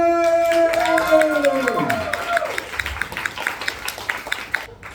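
A crowd at the Singapore Poetry Slam claps and cheers for the winner, first under a sliding musical sting and voices, then thinning into scattered, distinct claps near the end.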